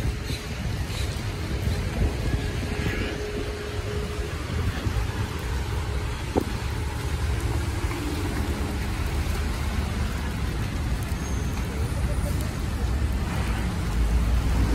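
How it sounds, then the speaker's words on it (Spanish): Rain falls on Avenida Ávila Camacho near Plaza Patria as a continuous broadband hiss of drops on pavement, with passing city traffic rumbling underneath. "Y pues nos agarró la lluvia."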